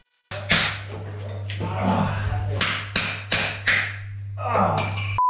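A hand hammer strikes a chisel in a series of sharp, close taps, some spaced and some in quick bursts, over a steady low hum, with occasional talk between blows.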